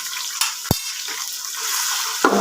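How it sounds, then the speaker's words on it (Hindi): Boneless chicken fries with ginger garlic paste in a pot, a bright steady sizzle punctuated by a couple of sharp stirring knocks against the metal. "तो चिकन का कलर चेंज होने तक हमने यहाँ पे चिकन को अच्छे से फ्राई कर लेना है।"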